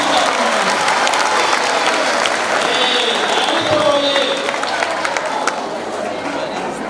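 An audience claps at length through a school talk, a dense and fairly loud roar of applause with crowd murmur mixed in, easing slightly toward the end.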